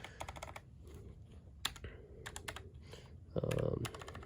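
Typing on a Logitech MX Mech Mini mechanical keyboard: quick, irregular bursts of crisp key clicks close by, with a brief louder rattle near the end and no talk.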